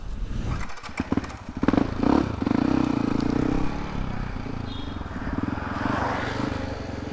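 A Yamaha WR155R motorcycle with a standard engine revs hard, its engine note rising through a couple of loud throttle surges and then holding a steady, strong drone while riding at speed.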